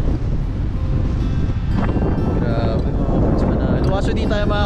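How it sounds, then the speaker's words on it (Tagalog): A strong sea wind buffets the microphone with a constant loud roar, while waves wash in the background and people talk over it throughout. "Napakalakas ng hangin."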